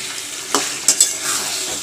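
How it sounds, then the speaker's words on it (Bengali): Meat sautés in a pan with a constant close sizzle, while a spoon stirs it and gives a few quick scrapes and clinks. "এই যে মাংসটা কষাচ্ছি এখন"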